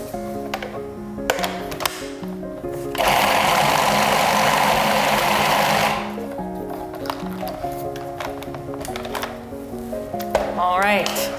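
A blender whirls pumpkin tofu cheesecake filling in a loud burst of about three seconds, set between quieter stretches of kitchen handling and music.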